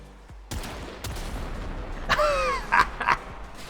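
Gunfire from a weapon in the video game Warframe: sharp shot impacts ring out at intervals, followed by a cluster of bursts mixed with whistling, sweeping tones over a low background rumble.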